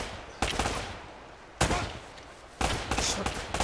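Three loud gunshot bursts from Uncharted: Drake's Fortune, spaced about a second apart, each a sharp crack followed by a decaying rumble.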